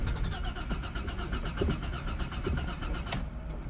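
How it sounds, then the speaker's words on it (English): Engine of a 2002–2003 Audi A4 3.0 cabriolet cranking and running after fuel pump replacement, a steady, close mechanical drone with pulsing beats and a brief sharp knock toward the end. "Every time you start it up, it'll cut off."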